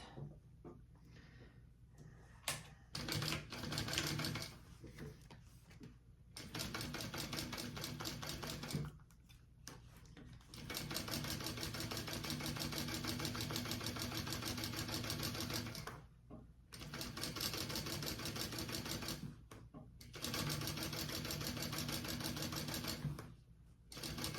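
A sewing machine runs a 1/4 inch seam down the sides of sling straps in several loud, rapid bursts of stitching separated by short pauses, with no voices.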